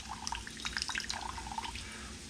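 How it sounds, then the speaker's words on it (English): Rice wine vinegar splashes and trickles into a dish during cooking, a short, light liquid pour with small dripping sounds standing alone at close range. "Splash of rice wine vinegar."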